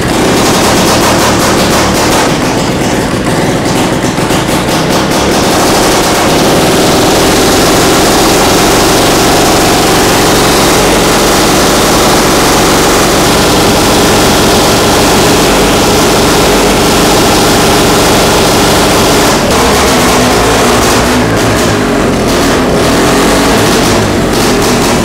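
A restored MTZ tractor's diesel engine runs loud and close throughout, a steady rattling clatter with harsh, rapid firing pulses that rise and fall in intensity, without any talk.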